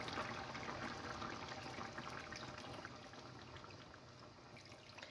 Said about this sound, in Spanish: Le vamos a añadir ahora el caldo.